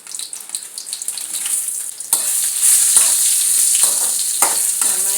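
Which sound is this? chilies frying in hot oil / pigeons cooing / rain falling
chilies frying in hot oil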